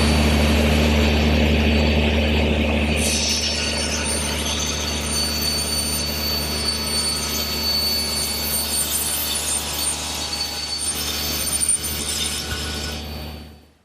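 A power saw trims a wooden side piece to height for a Shaker-style woodbox, giving a loud, steady, close whining roar that runs without a break for over ten seconds and then cuts off abruptly.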